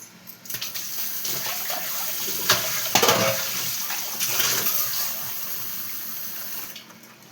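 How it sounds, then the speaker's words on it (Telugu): Water pours into a pot of cooking gongura (sorrel leaves) and prawns, a steady splashing stream lasting several seconds, moderately loud and close, with no talk. "కొంచెం వాటర్ వేసుకున్నాం అంటే గోంగూర అది ఉడకాలి కదా కొంచెం"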